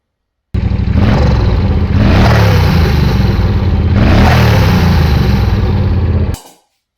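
A loud motorcycle engine with the exhaust silencer tube removed, leaving only a short end piece, revs up and down in a few surges, with a rough, raspy note that cuts off abruptly near the end.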